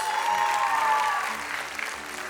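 Audience at a school award ceremony gives a round of applause, dense continuous clapping that holds steady and fades slightly toward the end.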